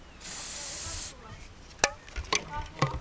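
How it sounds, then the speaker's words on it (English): Hairspray is sprayed into a homemade potato cannon in one bright hiss lasting about a second, followed by scattered rubbing and clicking handling sounds as the cover goes on. "what we found is a 1 second's worth of hairspray"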